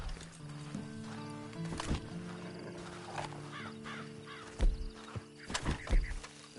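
Horse hooves in Red Dead Redemption 2 Online clop unevenly on the ground at moderate distance, with a steady tonal hum in the background and a few brief thuds.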